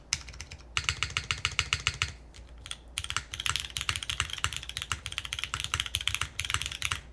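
Rapid clacking keystrokes on a Hope mechanical keyboard fitted with MX Brown switches, typed in quick close-up bursts with a short pause near the start and another around two seconds.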